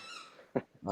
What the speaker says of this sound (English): I apologize if you hear that squeaking noise. That's my dog in the background.